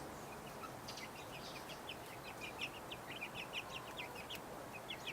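Backyard chickens give soft, scattered clucks and chirps at a moderate distance, repeated irregularly over a steady outdoor hiss with no one speaking.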